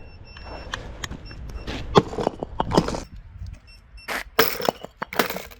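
A large boulder smashed onto a cheap electric scooter, giving a series of sharp cracking and breaking impacts with clattering debris, loud and close, some hits in quick bursts.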